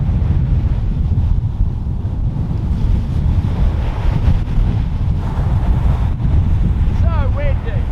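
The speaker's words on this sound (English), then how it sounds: "So windy." Strong wind buffets the microphone in a constant low roar, with waves and water in the background and a brief voice near the end.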